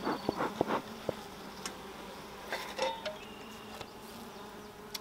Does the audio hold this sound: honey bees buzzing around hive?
yes